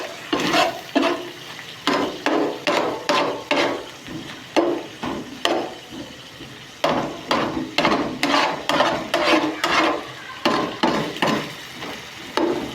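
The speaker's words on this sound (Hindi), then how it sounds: "अभी हमने कीमे को जो है ना मसालों के साथ अच्छी तरह से भूनेंगे" Beef keema fries in a pan with spices while being stirred, a rhythmic series of sharp scraping knocks of the spoon against the pan over a faint sizzle, close and steady with a short pause midway.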